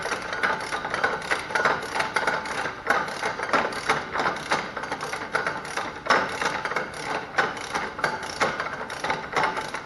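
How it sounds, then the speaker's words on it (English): Hand ratchet running a wheel bearing nut onto a truck axle spindle, giving steady close-up mechanical clicking and rattling that continues without pause. "now I'm just going to use my ratchet here to run it on all the way"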